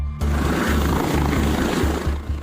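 Helicopter landing during a search for stranded people, a loud close rotor roar with a steady rapid chopping beat.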